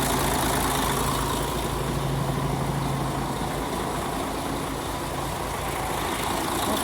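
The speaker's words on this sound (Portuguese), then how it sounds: "O motor aqui é um motor Mercedes eletrônico, 6 cilindros, beleza? É o 457 aqui." An electronic six-cylinder Mercedes 457 truck engine idles steadily, a loud, continuous low rumble with a faint humming tone near the start, heard alone without speech.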